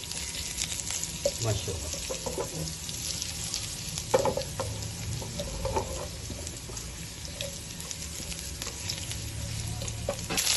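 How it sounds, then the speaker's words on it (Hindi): Green chillies slit down the centre sizzle and fry in a pan for a mirch masala gravy, a steady close crackle with occasional stirring clinks, and a voice speaks briefly. "इसमें अब हरी मिर्चें डाल दी मैंने, इसको रोस्ट करना है हमने हरी मिर्चों को"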